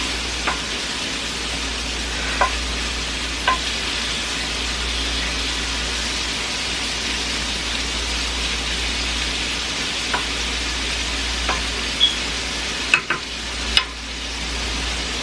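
About 1.5 pounds of ground beef browning in a skillet, giving a steady, close sizzle and crackle with a few faint scrapes of stirring, with no talk over it.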